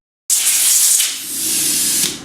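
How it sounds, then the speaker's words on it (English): Compressed air blasting out the screw holes of a Sidi dirt bike boot sole: a loud, close, continuous hiss that starts abruptly and dips briefly before surging again. "just blowing the holes out here"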